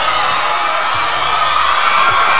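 Crowd on its feet cheering at a weightlifting championship in Bogota, a loud, steady roar of many voices with no pauses, heard from within the arena.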